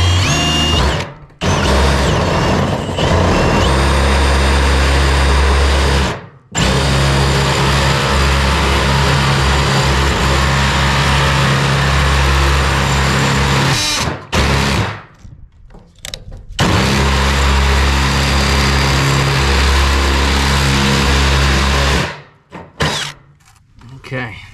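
A power drill bores a hole from the outside of an off-grid tiny house or pole barn during a black iron propane pipe install. It runs in long, loud, steady whirring bursts, broken by brief stops and restarts.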